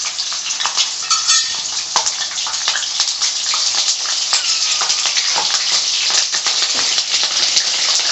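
Chillies for paneer 65 frying in hot oil, giving a loud, steady, close crackling sizzle with dense spitting pops throughout and no voices.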